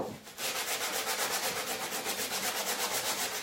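Steady, rhythmic hand sanding of a small painted wooden ladder with sandpaper, close up, a continuous gritty rasp pulsing with each back-and-forth stroke, no voices.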